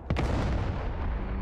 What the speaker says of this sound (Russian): Это кто выстрелил?